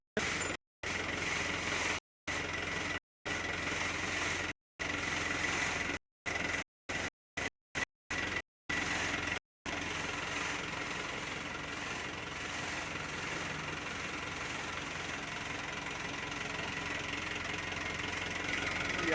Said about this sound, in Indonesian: Mari kita lihat sistem hidrolik pada mobil truk dam yang membawa pasir.